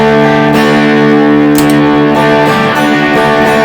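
A sustained electric guitar chord rings out through overdrive, thick and gritty with a steady buzzing tone, played loud and alone.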